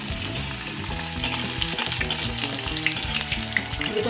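Kara boondi sizzling in hot oil with curry leaves and garlic, a loud, dense bubbling crackle that stays constant and close throughout, with no voices.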